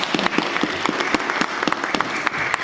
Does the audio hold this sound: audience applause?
yes